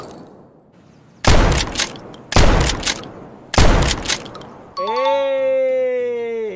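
Three loud, sharp Mossberg 590 shotgun blasts from a video game, each about a second apart with a short decaying tail, followed by a voice calling out.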